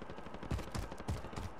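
Rapid game gunfire in Warzone, a quick run of muffled, low-level automatic shots with a steady rhythmic pulse and no speech over it.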